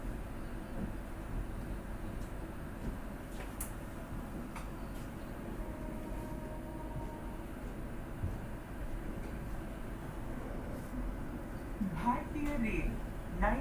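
A Vande Bharat Express on the New Delhi–Varanasi route runs at speed, heard from the chair car as a steady, close rail rumble and rattle that grows slightly louder near the end.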